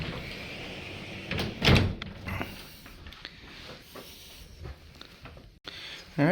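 A hotel bathroom door in a Brisbane Hyatt room opens and closes with a few clunks and a soft swing, fairly close, amid quiet room tone and a little background voice.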